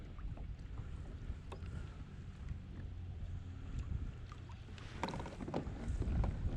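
Gusty wind rushes over open water around a fishing kayak on the California Delta, with low rumbling microphone buffeting and small water slaps against the hull, growing stronger toward the end.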